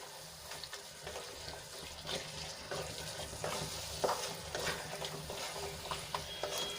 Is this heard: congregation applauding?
no